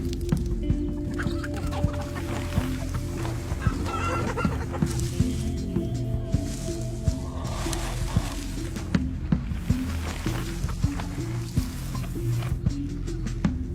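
Chickens in a coop cluck and murmur steadily, close and fairly loud, with scattered sharp taps and rustles throughout.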